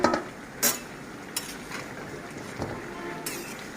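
Katla fish and taro pieces being stirred and fried in a pan, with a few scraping stir strokes over a low, steady sizzle, fairly faint and close.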